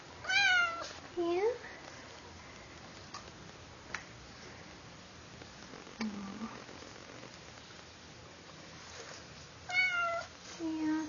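Several short, high meows from a black and white kitten come in bursts, with quiet stretches and faint ticking between them; a person speaks softly at times.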